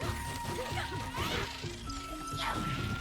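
Combat hits break an enemy's shield in Kena: Bridge of Spirits, giving several sharp cracking smashes and whooshing swings in quick succession, near and fairly loud, with layered magical tones ringing beneath.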